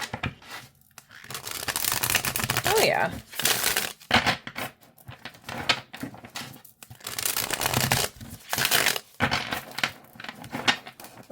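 A new tarot card deck is riffled and shuffled by hand in quick bursts of papery flapping and crisp card slaps separated by short pauses, with a person speaking briefly over it.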